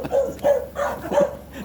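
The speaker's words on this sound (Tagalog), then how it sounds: "Bakit nito? May aso." A dog barks four times in a quick, uneven series, loud and close, with a short pause between each sharp bark.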